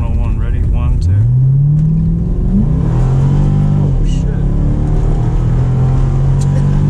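A C6 Corvette engine revs hard under acceleration, its pitch sweeping upward, dipping, then climbing again into a sustained loud drone, heard from inside the car with excited voices in the cabin.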